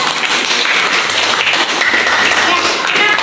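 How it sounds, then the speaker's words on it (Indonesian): A classroom group claps for a winning student team in an environmental technology lesson, a brisk burst of applause lasting the whole few seconds with faint voices mixed in. "Tepuk tangan buat kelompok 2."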